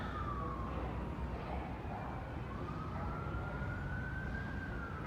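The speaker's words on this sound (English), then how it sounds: "Plus the ambulance, you hear it? The fire truck, whatever the fuck that is." An ambulance or fire truck siren wails at a distance, its faint rising and falling tone carried over a constant rumble of traffic noise.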